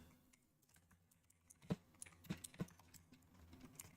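Quiet computer keyboard typing: a few soft, scattered key clicks in a calm room, with three clearer taps standing out near the middle.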